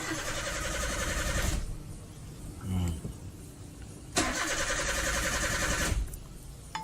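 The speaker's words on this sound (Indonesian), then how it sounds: "Akan saya coba starter ulang." A car's starter cranks in long loud bursts, each lasting over a second, separated by quieter gaps with brief voices, the engine failing to catch after stalling on its own.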